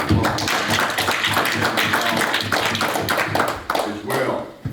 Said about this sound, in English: So join me in giving the parents a round of applause